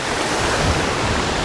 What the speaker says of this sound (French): petit ruisseau